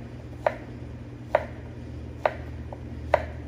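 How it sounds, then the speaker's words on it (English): A knife cuts Gold Bar squash into long strips on a board, four evenly spaced, crisp chops with quiet pauses between, close and clear with no talking. "then you can start cutting it into long strips or batons"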